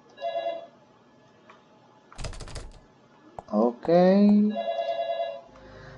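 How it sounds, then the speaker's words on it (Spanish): A telephone rings in the background of the Fran Bow video game: faint, repeating tonal ring bursts near the start and again toward the end, with a louder rattling thump and a voice in the middle. "Incluso está sonando el teléfono allá de fondo."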